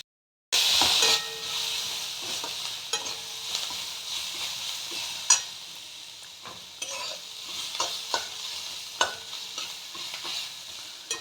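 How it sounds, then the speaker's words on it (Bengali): Onions with salt and turmeric sizzle and hiss steadily in a pan while being stirred, with a loud burst at the start and repeated scraping clinks of the spoon throughout. "পেঁয়াজগুলো ভালো করে ভেজে নেব"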